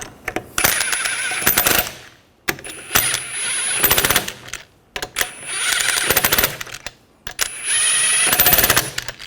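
Rapid bursts of a pneumatic impact wrench snugging down wheel lug nuts on a 2013-2019 Ford Escape after a rear brake caliper replacement, four loud rattling bursts of about one to two seconds each, separated by short pauses.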